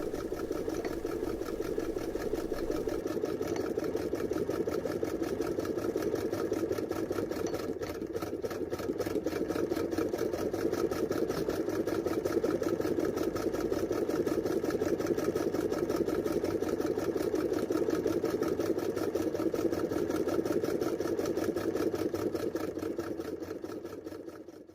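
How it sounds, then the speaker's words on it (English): A Jones CS hand-cranked sewing machine from about 1900 running steadily, a continuous noisy mechanical whirring and rattling held at an even pace throughout, close and alone with no talking. "This is a Jones CS machine from about 1900"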